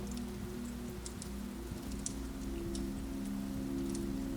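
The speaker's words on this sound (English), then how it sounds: "And the rain" Rain taps steadily on a roof, a soft continuous patter with scattered sharper drops over a low constant hum, no voices.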